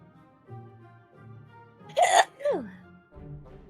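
A single sharp sneeze rises out of a quiet tabletop Dungeons & Dragons session, followed by a trailing falling vocal sound, with soft murmured talk before and after.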